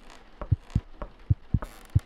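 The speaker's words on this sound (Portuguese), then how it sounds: "coração batendo forte" A heartbeat thumps in the horror game Oukago no Onigokko, a ghost tag-after-school story: paired lub-dub beats pulse at a quick, even rhythm, close and clear with nothing else around them.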